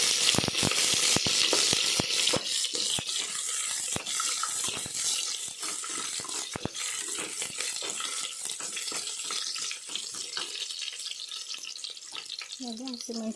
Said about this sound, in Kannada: ಈಗ ಈರುಳ್ಳಿ ಹಾಕ್ಕೊಳ್ಳೋಣ. ಸ್ವಲ್ಪ ಫ್ರೈ ಮಾಡ್ಕೊಳ್ಳೋಣ.